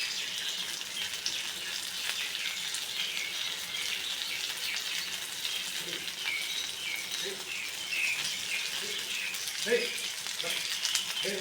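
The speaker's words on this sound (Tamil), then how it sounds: "எல்லாத்தையும் ரெடி பண்ணி எடுத்து வச்சுட்டு இப்போ வந்து வறுத்துட்டு இருக்கேன்." Masala-marinated fish fries in a pan in a home kitchen, giving a steady, fairly quiet hiss of oil that runs the whole time, with a few soft clinks and faint background voices.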